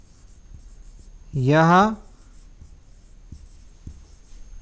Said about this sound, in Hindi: तो सेकंड पॉइंट हम ये लिखेंगे